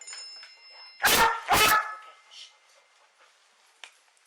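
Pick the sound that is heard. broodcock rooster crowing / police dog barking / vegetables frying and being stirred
police dog barking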